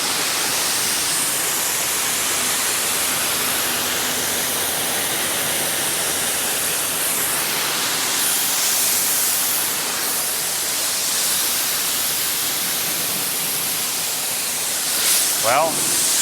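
Water rinses a car at 4 gallons a minute, producing a loud, steady broadband hiss of spray that continues unbroken and close throughout.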